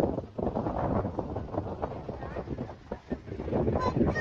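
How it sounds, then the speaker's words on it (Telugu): Strong monsoon wind buffeting the microphone at Baga beach in Goa, a steady roaring rumble throughout with surf beneath, loud and close. "ఈ రోజు అలలు ఎక్కువ ఉన్నాయి ప్లస్ మళ్ళీ గాలి కూడా చాలా ఎక్కువ ఉంది"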